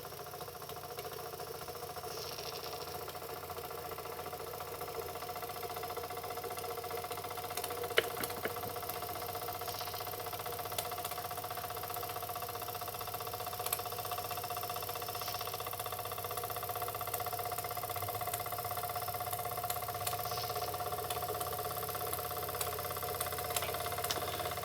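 A Jensen #70BB ball-bearing live steam engine runs smoothly and continuously, a steady mid-level whir and hum with faint ticking, unchanging throughout and with no voices.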